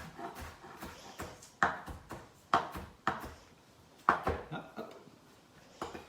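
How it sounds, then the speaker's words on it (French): A knife coarsely chops bean sprouts on a board for beef spring rolls, giving a run of sharp, close taps in uneven bursts, with brief talk between the cuts. "les germes de soja, je ne vais pas les hacher, hein, je les coupe grossièrement"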